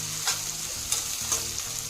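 Onions and curry leaves frying in a pan, a steady soft sizzle with a few brief stirring scrapes, close and alone without talk.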